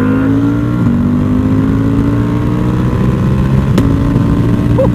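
A V2 Bayliss motorcycle with an Akra full exhaust idles and revs steadily up close, its exhaust rumbling loudly throughout with a brief sharp pop near the end.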